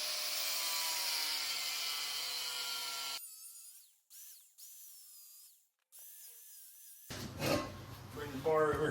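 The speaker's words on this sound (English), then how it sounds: "We'll go ahead and make this cut." Power tool cutting a metal bar for a winch mount on a Jeep Cherokee, a loud steady high whine for about three seconds, then winding down in bursts and fading, with a clattering burst of handling noise at the end.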